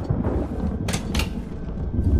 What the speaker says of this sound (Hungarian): Kurva jó hangja van ennek a izé villámlásnak is